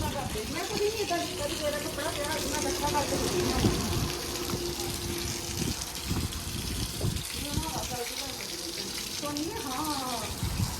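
Water gushes and splashes steadily nearby while people talk over it throughout.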